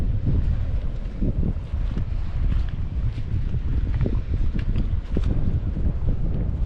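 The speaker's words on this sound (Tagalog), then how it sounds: "Malaki na naman yung alon, amihan na naman." Strong amihan wind roars across the sea around a boat, a constant heavy low buffeting on the microphone with wave wash underneath, loud and unbroken, no speech.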